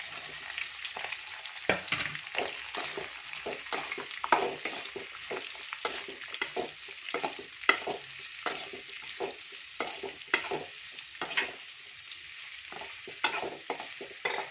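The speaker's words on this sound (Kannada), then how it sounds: "ಸ್ವಲ್ಪ ಫ್ರೈ ಆಗಲಿ ಇದನ್ನು ನೋಡಿ ಫ್ರೆಂಡ್ ಈರುಳ್ಳಿ ರೋಸ್ಟ್ ಆಗ್ತಾ ಇದೆ" Onions frying in a pan for mango rice along with curry leaves and green chillies, a steady sizzle broken by repeated sharp scraping strokes of stirring, close and fairly loud with no voices.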